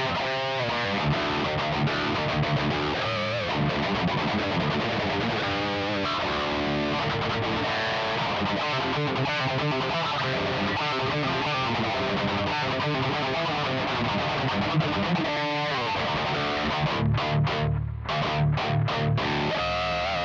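A distorted electric guitar tone from a Tonex pedal running in the effects loop of a Headrush MX5 plays chords and riffs continuously, loud and saturated, with a choppy stop-start passage near the end.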